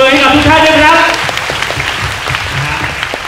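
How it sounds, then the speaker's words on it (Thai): Audience applause fills a Thai cast pre-meeting event, starting loud and dense over a lingering musical tone and then thinning into scattered claps, with voices mixed in. "ขอเสียงปรบมือให้กับทุกท่านด้วยครับ"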